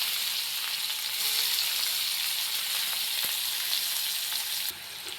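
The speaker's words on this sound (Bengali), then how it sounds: "উচ্ছেগুলো লাল লাল করে ভেজে নেব।" Sliced bitter gourd sizzles steadily in hot oil in a home kitchen pan, a dense continuous frying hiss with occasional stirring sounds, alone without any talk.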